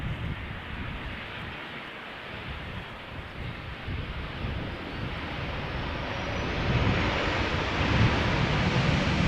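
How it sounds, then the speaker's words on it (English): A Tarom Boeing 737-800 arriving at Schiphol after a flight from Bucharest: steady broadband jet roar that slowly swells louder toward the end, mixed with wind buffeting the microphone. "Tarom flight 361 arriving from Bucharest. 737-800."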